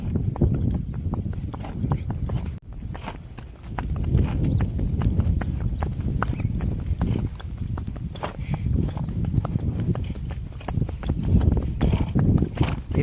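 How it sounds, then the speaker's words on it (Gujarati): Mare being ridden at a slow walk on a village outing, hooves clip-clopping in a steady, unhurried rhythm, close and fairly loud, continuing for the whole stretch with a brief break and light background noise. "હવે ઘોડીને ઉતામળી નથી થવા દેવાની, હવે ધીરે હાલી જવા દેવાની. કદમ જવા દેવું."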